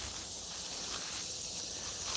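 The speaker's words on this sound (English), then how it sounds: "Do you guys hear all the insects out here?" A dense, steady chorus of insects and cicadas buzzing high and continuous through woods at dusk, an even shimmering drone with no voices.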